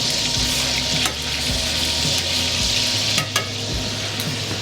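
Lobster pieces frying in a hot pan give off a steady loud sizzle and crackle, with a few sharper pops and clatters from turning them, close by and with no talking.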